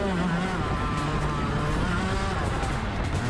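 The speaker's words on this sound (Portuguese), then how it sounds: "Então veja ele acionar os freios, dá para ouvir o kart travando." A young driver's racing kart locking up under hard braking, a loud, close engine and tire scrub with a falling whine, continuous and dense for a few seconds.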